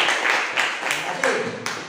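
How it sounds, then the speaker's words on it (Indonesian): A classroom group of students claps together in a brief burst of applause, several rhythmic waves of hand claps close by, with a voice speaking over it. "Tepuk tangan semuanya."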